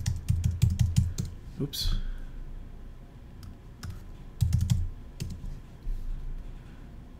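Someone types in short clicky bursts on a computer keyboard while searching for stock photos for a WordPress site, with quiet gaps between flurries and brief talk nearby.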